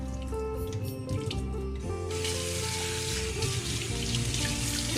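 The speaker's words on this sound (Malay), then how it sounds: "Saya akan cuci dengan sedikit air." Water splashing as cassava leaves are washed and strained by hand in a little water for a Sarawak dish, a continuous wet swishing and trickling that grows denser midway, with no talking.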